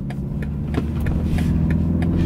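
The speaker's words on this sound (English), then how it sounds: "we're in manual mode, first gear, accelerate" A 2020 BMW 330i xDrive accelerates hard in first gear in manual mode, its engine note rising steadily and loudly from inside the cabin, with no talking over it.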